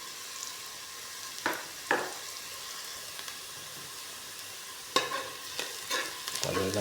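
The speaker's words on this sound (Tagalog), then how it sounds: "Haluin natin guys para maluto na guys" A spoon stirs chicken soup with ginger, onion and garlic in a pot, giving faint scraping and clinking at scattered moments over a soft background sizzle, with no talking.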